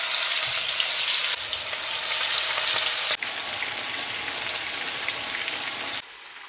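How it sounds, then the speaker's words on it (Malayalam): Chicken frying in hot oil for biryani, a dense, loud, steady sizzle that runs the whole time, briefly dipping in level about halfway and again near the end, with no voices. "നമ്മൾ ചിക്കനൊക്കെ വറുത്തെടുക്കുന്നുണ്ട്"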